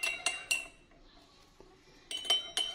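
A metal spoon clinks against a cup while stirring kahwa tea, a few sharp quick taps in two short bursts separated by a quiet pause, close and clear.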